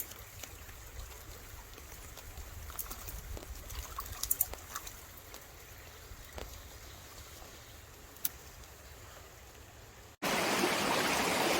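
A brook trout stream flows past, a soft continuous gurgle and trickle of moving water with occasional small clicks and taps nearby, ending in a sudden louder rush of broadband noise.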